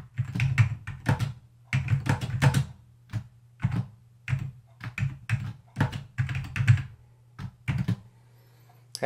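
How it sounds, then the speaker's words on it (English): Bursts of key presses on a keyboard hooked up to an iPhone, with irregular clusters of close, crisp clacks and short pauses, alone in a quiet room. "Let's see if we can get the keyboard working as well."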